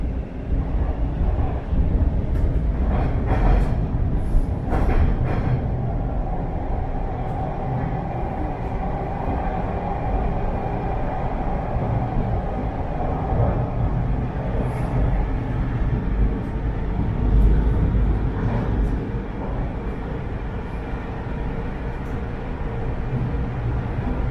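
Toronto subway train pulling into Bathurst Station, a loud continuous rumble and rail roar throughout, with wind-like rushing and a few squeals as it slows.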